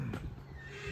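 A horse at a saddlery gives a short, fairly loud neigh with some hoof clip-clop and stable rumble behind it, close by and without talking.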